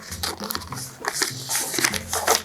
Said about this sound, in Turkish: Şimdi ters çevirip ikiye katlıyorum.